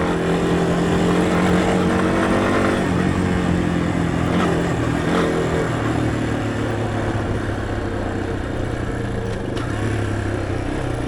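A Yamaha XT250 motorcycle ridden fast gives a steady, loud engine drone with wind rush, held at high revs without a break, heard close from the rider's position.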